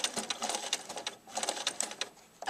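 A sewing machine stitches quilt binding in short bursts, running a few stitches backward and then forward again. The rapid mechanical whirring is close and fairly quiet, with brief pauses between runs.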